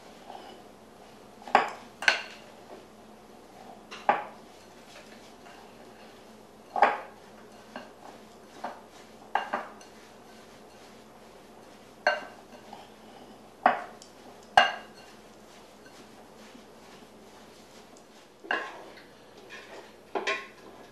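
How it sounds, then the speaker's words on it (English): Melted butter being stirred into a mixture in a bowl, heard as intermittent spoon clinks and scrapes against the dish, about a dozen sharp taps spaced irregularly over quiet background, close but soft. "And just give that a good stir."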